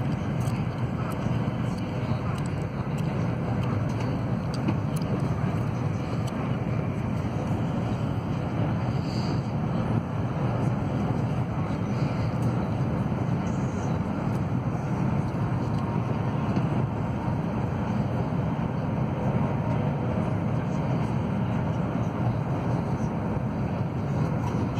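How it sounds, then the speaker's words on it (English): The inside of a high-speed train running from Xi'an to Beijing at up to 300 km/h gives a steady, loud broadband rush and rumble of ride noise, unbroken for the whole stretch, with no clear talk. "The high-speed train traveling from Xi'an to Beijing."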